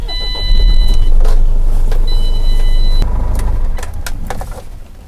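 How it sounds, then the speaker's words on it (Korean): Tata Daewoo The Cen truck diesel engine starting and idling, a loud low rumble that rises sharply and holds steady with faint clicks and tones above, close by, without speech. "시동을 한번 켜서요"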